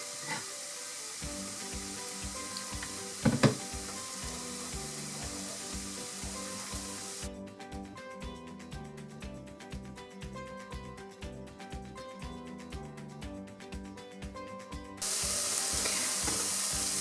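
Vegetables fry in a pan on medium-high heat with a steady, close sizzle and hiss that carries on throughout, with a brief clatter of stirring partway through and the sizzle swelling louder near the end.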